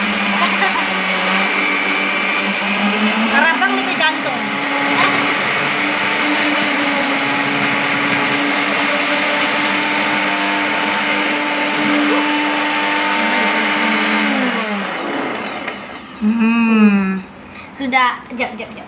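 A blender grinds ingredients for homemade kuih makmur dough, a loud, steady whirring motor that shifts pitch partway and runs for most of the stretch before stopping, with voices talking briefly near the end.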